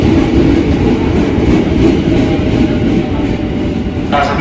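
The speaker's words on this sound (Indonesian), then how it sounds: "KRL yang akan aku naiki datang juga guys" A KRL Commuter Line electric train pulls into a station with a loud, close rumble and rhythmic clatter of wheels on the rails. A brief higher hiss or squeal comes in near the end.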